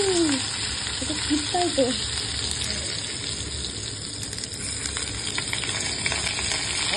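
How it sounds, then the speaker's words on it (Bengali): Food frying in a pan and being stirred with a ladle, a steady sizzle throughout with scraping strokes, while someone speaks briefly in Bengali. "চলো সবার প্রথমে আমি এগুলোকে ভেজে নিই, সব কিছু একসঙ্গে দিয়ে দিই।"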